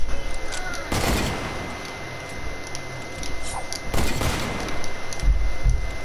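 Two sharp, loud sniper rifle cracks ring out in Fortnite about three seconds apart, each with a brief echoing tail, over a steady background of game noise and a few lighter thumps.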